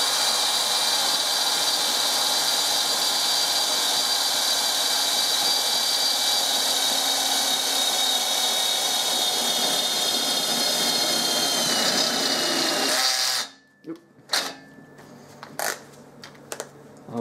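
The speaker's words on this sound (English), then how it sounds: "I'm going to take it out to 8mm on the step drill, and then use a twist drill to take it out to 10" Step drill and then twist drill opening a hole to 10 mm in metal on a milling machine, a long, steady, loud whining cut that stops abruptly near the end, followed by a few scattered clicks and knocks.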